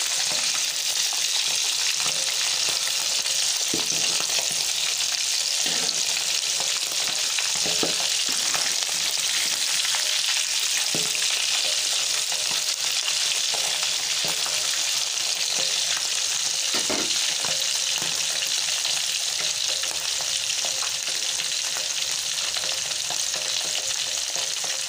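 Mackerel pieces frying in hot oil for taucu ikan gembung keep up a loud, continuous sizzle for the whole stretch, broken by occasional clicks and scrapes of a utensil, with no talk.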